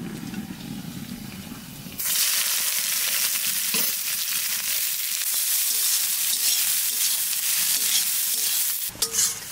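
Onions, whole garam masala and bay leaves hit hot oil in a pan with a loud, steady sizzle that erupts suddenly after a quieter start and keeps hissing evenly, with a few faint clinks near the end.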